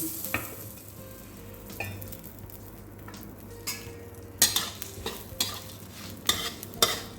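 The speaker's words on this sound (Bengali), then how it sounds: "তো চলো আগে সর্ষে দিয়েছি আর দেব শুকনো লঙ্কা এরকম ফোড়ন" Mustard seeds and dried red chillies crackle and sizzle in hot oil, a steady frying hiss punctuated by sharp pops and stirring clatters that grow busier toward the end, with no talking.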